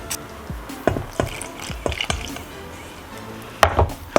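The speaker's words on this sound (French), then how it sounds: "On va pouvoir mélanger." A spoon or spatula stirs water into potato-starch flour and salt in a bowl for a Korean dough, giving scattered taps and short scrapes, close and fairly quiet, with a brief louder clatter near the end.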